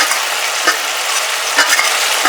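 Basic spices go into a hot pan of oil for a cucumber curry (kheere ki sabji), giving a loud, steady sizzle and fry with a few stirring scrapes, close up, with no talk.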